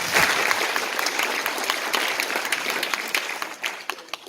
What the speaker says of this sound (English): if everyone give them a big round of applause